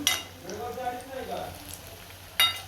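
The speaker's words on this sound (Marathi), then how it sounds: "आता इकडे तापलेलं आहे तेल मी करते आता भजी" Ghosale (ridge gourd) bhaji fry in hot oil with a soft, steady sizzle. Utensils clink now and then, with a sharp clatter near the end, and a voice is faintly audible.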